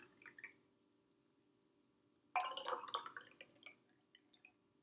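Water poured carefully from a container into a cup of oil, a brief close splash and trickle with a few drips, heard on its own with no talking.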